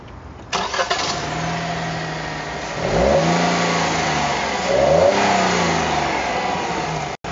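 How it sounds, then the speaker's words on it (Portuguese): Fiat Mobi Drive 1.0 Firefly three-cylinder engine from 2019 revving up twice in quick blips with a rising and falling pitch, close and loud over a steady idle, with no talking. "o Firefly, 3 cilindros, motor com 77 cavalos no etanol, 72 na gasolina"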